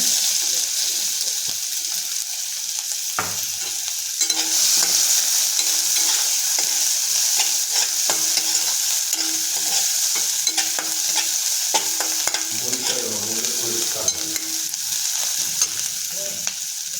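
Steady, loud sizzling of chillies, asafoetida and garlic frying in hot oil, with occasional stirring scrapes and clinks throughout, no talking.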